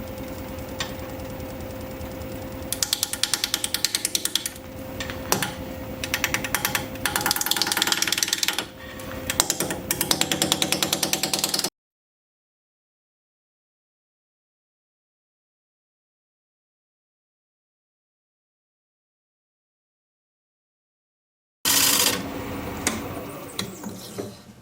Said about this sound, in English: sharpen up my 5/8 inch bowl gouge, and we'll get to turning